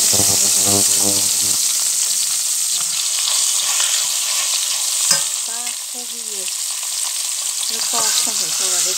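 Garlic cloves frying in hot oil in a pan with potatoes for braised pork ribs, a loud, continuous crackling sizzle that carries across the whole stretch, with a brief low hum at the start.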